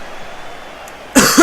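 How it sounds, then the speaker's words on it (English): A sudden, close cough bursts out after a stretch of near-quiet, followed by a second short rasp, loud against the faint background. "Sorry for the coughing, guys."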